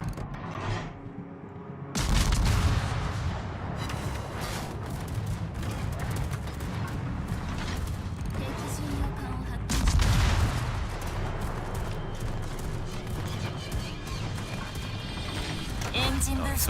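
Enemy warship guns firing in World of Warships: deep booming salvos land over a constant rumbling battle din, with heavy blasts near the start and again about halfway through.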